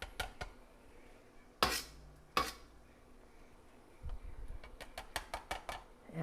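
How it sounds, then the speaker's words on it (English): Peach jam scooped through a metal funnel into a glass jar, giving a few sharp, bright clinks and taps of utensil on glass against a quiet room, with a quick flurry of light knocks near the end. "Grab another jar, bring it out, put your funnel in, scoop out your jam"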